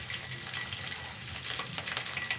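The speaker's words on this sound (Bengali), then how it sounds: "এরপরে দিয়ে দেবো ভাজা করার জন্য চাল, যে চালগুলো আমি ধুয়ে পানি ঝরিয়ে রেখেছিলাম।" Washed, drained rice fries in hot oil with whole cumin and slit green chillies for a rohu fish head dish, giving a steady, moderate sizzle with faint crackles and light stirring.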